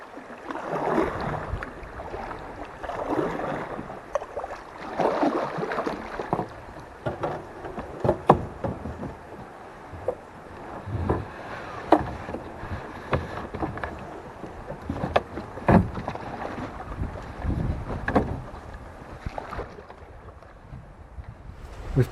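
Irregular kayak paddle strokes and splashes on a river, with wind buffeting the microphone and occasional knocks against a boat hull, moderately close.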